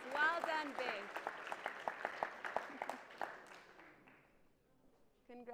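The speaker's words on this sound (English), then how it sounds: "Let's give a big round of applause." An audience claps for a first-place reading prize winner at a school event, with fairly sparse, distinct claps that fade over a few seconds while a voice talks over the start.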